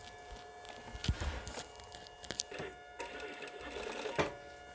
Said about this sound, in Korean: 이렇게 박음질 해보도록 하겠습니다.